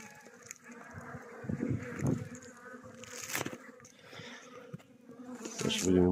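Honeybees buzz around hive frames from a weak colony in spring, a close, wavering drone with bees flying near and past, plus faint handling of the frames and a brief murmured voice.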